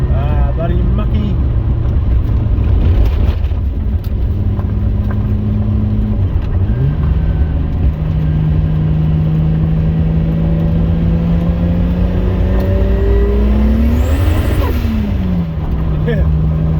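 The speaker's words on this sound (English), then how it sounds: "I'll wind the window down a little bit so we can hear a bit more of that turbo" A Toyota Supra with a 1.5JZ engine and turbo drives along with a loud, constant engine drone from inside the car. Near the end the pitch climbs, then falls with a brief airy whoosh.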